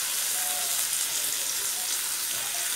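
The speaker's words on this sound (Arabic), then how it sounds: "وهنقلبهم ونشوح معاهم البصل كده" Burger patties frying with onions in a hot pan give a steady, dense sizzle and hiss throughout, close and even in level, with no voices over it.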